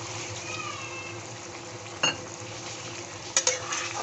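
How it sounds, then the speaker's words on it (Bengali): Okra masala is stirred in a cooking pan over a soft, steady sizzle, with a spoon scraping and knocking against the pan twice, briefly and close by. "ভালোভাবে নেড়ে চেড়ে নিতে হবে।"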